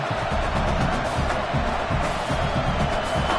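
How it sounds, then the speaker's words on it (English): A home crowd at an American football game gives a steady, loud roar that fills the whole stretch without letup. "Man, this crowd really affecting the football game."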